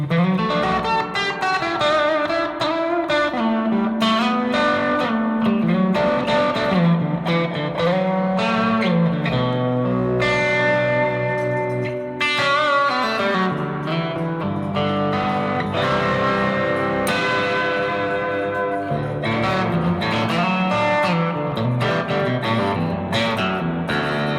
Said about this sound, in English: Everything sounds a little cooler through the stereo Tallbird spring reverb